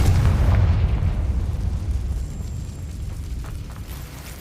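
A Confringo fire spell explodes in the Hogwarts Legacy video game, a loud, deep blast that rumbles and slowly fades away over several seconds, with no voices over it.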